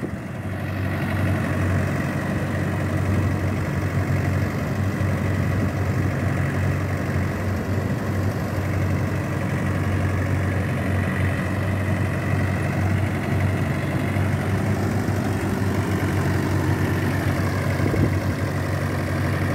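Thirty-year-old tractor loaded with 80–90 quintals of soil idles steadily, a loud, continuous low diesel rumble with constant throb and no speech, close by throughout.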